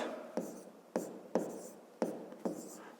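Handwriting numbers with a pen on paper during a division exercise: short scratchy strokes in about five distinct bursts, close and clear, with no talking.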